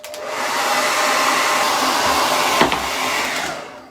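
Hair dryer blowing to dry paint on a door hanger, a close, steady rushing whoosh that ramps up, holds, then fades out.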